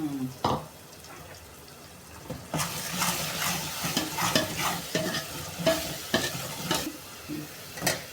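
A spoon stirs curry masala of pepper, cumin, garlic, coriander, onion, shallot, green chilli and mashed cooked tomato in a pan, with repeated scraping strokes over a steady close sizzle.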